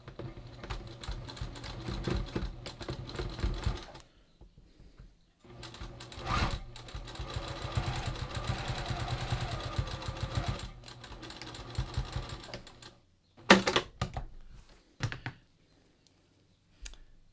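A sewing machine stitches a cowl neckline seam in close, steady runs of rapid mechanical clatter, pausing around four seconds in, resuming for a long stretch, then stopping amid a few handling clicks and knocks.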